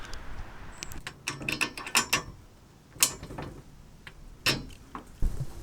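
A nut being tightened on a metal strut for mounting solar panels, uneven ratcheting clicks and metallic clanks in short bursts, close and fairly loud, with pauses between turns and no speech.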